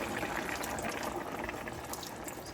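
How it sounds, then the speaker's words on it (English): A little water is poured into a pot of okra stew, a steady soft trickle lasting a couple of seconds, close and fairly quiet with no talk. "you can just add a little bit water."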